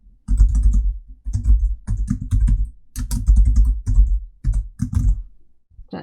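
Keys clatter on a computer keyboard in close, quick bursts of typing separated by brief pauses, with no voices.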